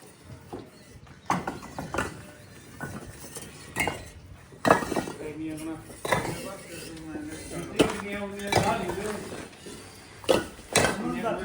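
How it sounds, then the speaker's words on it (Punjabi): Metal dishes used for rotis being scrubbed and washed outdoors in a Punjab village, with repeated clinks and clattering knocks at an irregular rhythm, close by, while people talk nearby. "ਹਜੇ ਰੋਟੀ ਵਾਲੇ ਭਾਂਡੇ ਪਾਏ ਨੇ ਮਾਂਜਣ ਵਾਲੇ"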